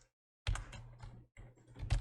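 Computer keyboard keys tapped in a quick run while entering a file name in AutoCAD's JPG export, close and fairly loud, with a short pause partway through before the typing resumes.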